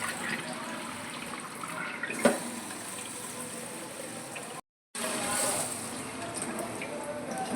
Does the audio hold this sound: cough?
no